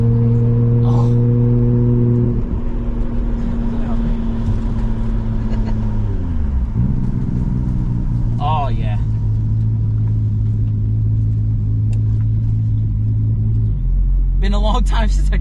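Nissan R33 GTR engine droning loud and steady from inside the car while driving, with a gear change dip around the middle and harmonics climbing again; brief voices break in now and then.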